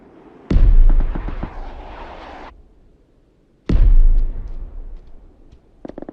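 A mortar in PUBG on PC fires twice, roughly three seconds apart, each shot a loud booming thump that rolls off into a fading rumble, with faint clicks at the very end.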